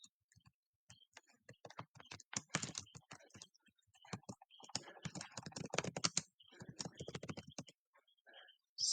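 Keys tapped on a computer keyboard in an irregular run of close, crisp clicks, with short pauses between bursts and no talking.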